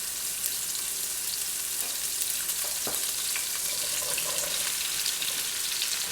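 Zucchini frying in hot oil in a pan over a medium flame, a dense continuous sizzle with faint scraping and stirring touches, steady and close throughout, no voices.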